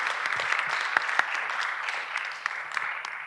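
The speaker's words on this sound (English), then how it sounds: "again, a round of applause for both of them." Sustained applause from a youth forum audience at ZeroCon20, a dense steady wash of many hands clapping with a few sharper claps standing out near the front.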